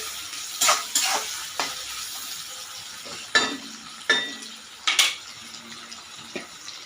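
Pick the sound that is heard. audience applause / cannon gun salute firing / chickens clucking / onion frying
onion frying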